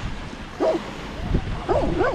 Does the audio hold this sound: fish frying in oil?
no